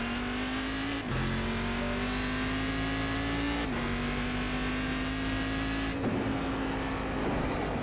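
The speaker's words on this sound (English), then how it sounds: "The engine noise is spectacular." A car engine revs hard and steady, its pitch climbing and dropping sharply at gear changes, loud and close like onboard a racing car.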